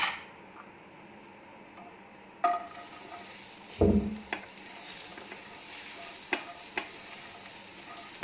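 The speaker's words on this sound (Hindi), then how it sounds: "अब प्याज को ड्राई रोस्ट कर लेंगे।" Onions dry roasting in a pan, stirred with a utensil: low steady hiss broken by a loud scraping clatter near the middle and a few sharp knocks and ticks later, with no voices.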